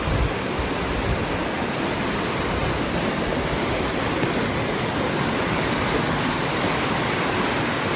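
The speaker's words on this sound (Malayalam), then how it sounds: "വെള്ളത്തിന്റെ സൗണ്ട് നിങ്ങൾക്ക് അങ്ങനെ കേൾക്കാം" The rushing water of Tiffany Falls in Hamilton, Canada roars in a loud, unbroken broadband wash that holds even and constant throughout, with no voices.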